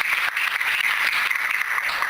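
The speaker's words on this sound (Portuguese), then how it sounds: "Você pode aplaudir e exaltar o Senhor por isso." A church congregation applauds, a dense, steady wash of many hands clapping at once, continuous and fairly loud throughout with no talking.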